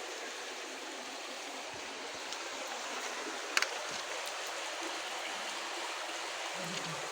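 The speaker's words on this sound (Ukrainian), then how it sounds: "А вони наложили камінячко, щоб був водопадик." Steady, gentle rush of running water over a small stone-built cascade on the Inhulets river, continuing evenly with no voices.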